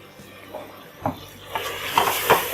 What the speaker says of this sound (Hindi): फिर इसमें टिंडे डालकर भूनती हूँ